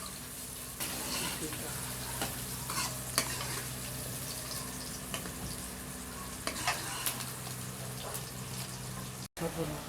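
Onions fry to light brown in a pan with a steady close sizzle and frequent stirring scrapes, ending in a brief sharp break.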